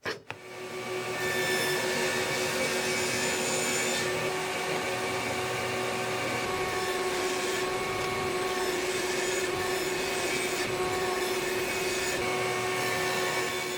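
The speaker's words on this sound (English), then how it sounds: "raise the blade up another 1/16 of an inch, and make the next cut" Table saw running steadily while cutting a series of stepped grooves in a wood piece, a continuous loud whine with sustained tonal hum throughout, no talking.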